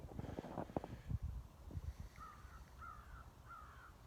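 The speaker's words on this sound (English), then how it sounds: "I'm hearing the crows and lots of birds this time of year." Distant crows caw three times in a row over a breezy outdoor background, following some muffled rustling.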